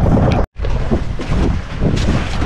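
Strong wind buffets a fishing boat at sea off Palawan, a loud, gusty roar of wind noise across the microphone with a brief dropout and surging bursts, no talking.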